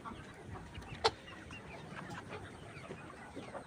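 Layer hens on a poultry farm cluck softly and sporadically, with one sharper, louder squawk near the start over a low ambient hum.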